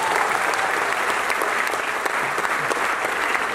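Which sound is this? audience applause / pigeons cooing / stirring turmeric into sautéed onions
audience applause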